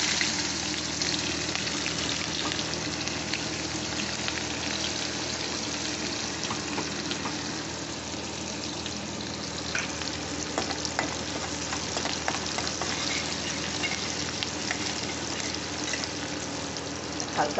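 Onions fry in a pan for a cabbage bharta, giving a long, steady sizzle with intermittent stirring scrapes and small crackles. It stays close and even throughout, with no speech.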